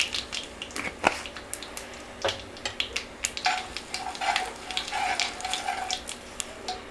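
Asafoetida and dried red chillies fry in sesame oil for a tomato pickle, giving a steady close crackle and sizzle with scattered sharp pops and a light metal scrape.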